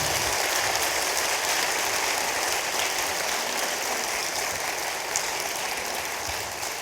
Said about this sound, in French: Benjamin Lubzinski, on vous applaudit.